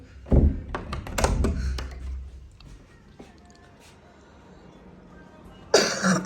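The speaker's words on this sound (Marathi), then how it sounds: "खोकला" A few sharp coughs and throat-clearing sounds come up close at the start, followed by quieter room noise and a loud burst at the end.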